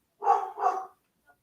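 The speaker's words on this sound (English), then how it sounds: "Hank is a barking." A dog named Hank gives two quick, close barks in succession, followed by quiet with a faint trailing sound.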